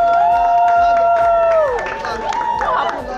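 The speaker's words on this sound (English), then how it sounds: "Clap for him" A group claps at an NYSC editorial CDS meeting during an officer election, a loud, steady patter of many hands with cheering and crowd voices mixed in, continuing throughout.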